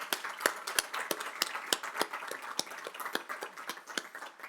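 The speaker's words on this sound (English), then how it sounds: "I think Ryan deserves a bigger round of applause for the night." Scattered audience clapping in a parliament function room, sharp distinct claps from a modest crowd, fairly quiet and irregular in rhythm, continuing steadily without voices over it.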